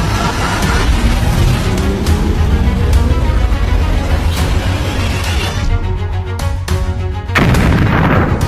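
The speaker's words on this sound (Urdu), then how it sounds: "ایک ایسا دھماکہ ہوا جس کی درجہ حرارت 1000 ڈگری سیلسیس تھی" A huge atomic bomb blast over the city of Hiroshima, a loud, continuous rumbling explosion roar that fills the whole stretch, with heavy low rumble throughout and a sharp burst of renewed debris-like noise near the end.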